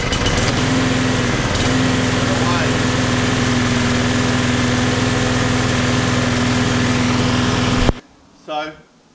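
A Victa Classic Cut lawn mower engine running steadily, a loud close buzzing drone held for about eight seconds before it cuts out abruptly, followed by a brief voice.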